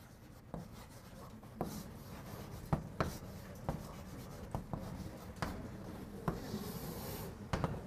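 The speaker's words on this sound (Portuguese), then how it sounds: "Deixa eu escrever de novo." Chalk or marker writes on a board during a math lesson on derivatives, giving soft, steady scratching strokes with small taps, faint and close.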